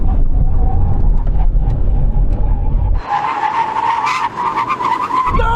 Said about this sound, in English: you brake on that side, I'm going to brake on this side